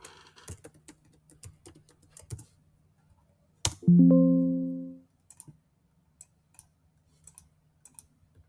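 A computer keyboard being typed on while setting up a login automation: scattered light key clicks, a sustained electronic chime partway through, then sparse taps.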